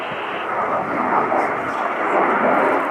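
An F-35B Lightning II fighter flying downwind at a RIAT 2024 air display gives a steady, broad jet roar that swells slightly, heard under a commentator's voice.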